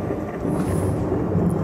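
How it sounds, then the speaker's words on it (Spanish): Thunder rumbles in the distance during a storm as a steady, dense low roar that holds without breaks, with no voice over it. "Retumbaron truenos a lo lejos."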